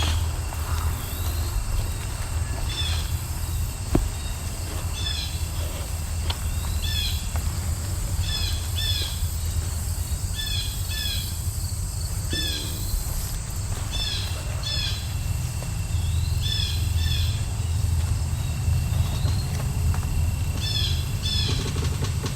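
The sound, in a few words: blue jay calling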